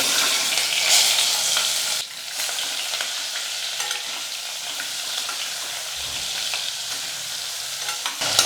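Stuffed brinjals sizzle in hot oil in a pan, giving a constant bright frying hiss broken by scraping stir strokes, with no voices.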